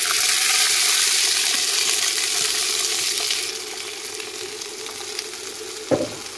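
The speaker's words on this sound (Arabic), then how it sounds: "هاخد شويه زيت من الزيت اللي انا قاليه فيه البصل، وانزل بيه بالعدس بتاعي" Soaked lentils frying in hot onion-flavoured oil, a steady loud sizzle that gradually softens, with a brief stir or clatter near the end.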